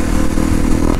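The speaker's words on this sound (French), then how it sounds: "j'ai décidé de partir à une petite ride de moto avec vous autres" A 2018 Honda CRF250L dual-sport motorcycle under way, its mid-pitched engine buzzing steadily and close, with a rattling clatter mixed in.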